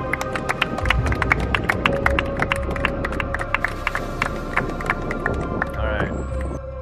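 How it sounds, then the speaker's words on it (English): A group at a school Mini-THON event gives itself a round of applause, scattered individual claps and cheering voices rising over a busy crowded room, irregular and fairly close. "So give yourselves a round of applause."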